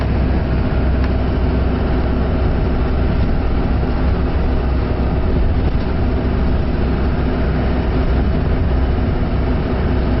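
Engine of a 2012 Toyota Coaster bus running steadily in fourth gear, a loud, constant broadband drone heard from inside the cabin with no pauses or talk.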